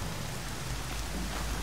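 Steady rain pours in the video game Horizon Zero Dawn, a dense, even hiss with a low rumbling undertone, continuous and fairly loud with no voices.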